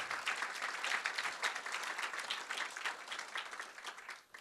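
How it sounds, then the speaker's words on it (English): Lecture audience at a CSULB legacy lecture applauding a Dr. Sanchez, many hands clapping in a dense, fairly quiet wash that holds steady, then thins and trails off at the end. "Please join me in a round of applause"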